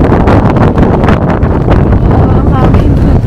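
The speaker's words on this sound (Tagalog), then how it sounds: "Sobrang hangin. Sobrang windy." Strong, cold wind gusts at Owakudani volcanic valley in Japan, battering the microphone with loud, continuous low rumbling buffeting while a person talks through it.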